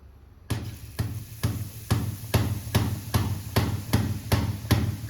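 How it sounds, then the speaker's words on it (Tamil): A ladle of boondi batter is tapped over hot oil for motichoor laddoo, giving about eleven sharp, evenly spaced taps close by over a faint steady hiss. "பூந்தி போடுறதுக்கு ஒரு கரண்டி மாவு ஊற்றி இந்த போல் தட்டிக்கலாம்."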